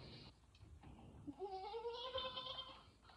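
A person imitates a sheep with a wavering, nasal bleat that rises and holds for about a second and a half, following a quieter stretch of faint background noise.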